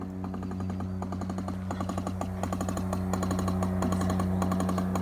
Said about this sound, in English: That's not how an air compressor is supposed to sound.